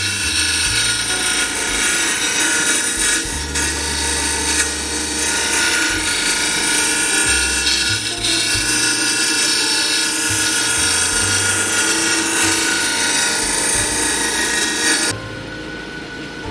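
Wood lathe turning a myrtle wood vase while a tool rounds the back, a steady high whirring spin with shifting scraping and cutting tones, loud and close, easing off near the end.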